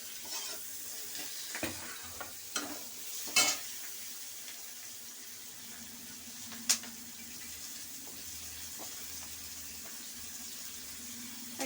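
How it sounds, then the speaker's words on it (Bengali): Capsicum frying over high heat in a pan, with a steady soft sizzle and occasional stirring scrapes and clacks, moderately close with no talking. "এবার ক্যাপসিকামটা দিয়ে দেবো, দিয়ে একটু বেশি আঁচ করেই ভাজতে হবে"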